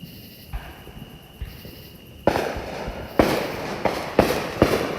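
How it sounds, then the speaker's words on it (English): Fireworks bursting around Peachtree City, Georgia, a series of sharp booms and cracks at varying distances, some faint and far, later ones louder, over a hissing night background with no talk. "We have fireworks going all around, and it's hard to locate the next one."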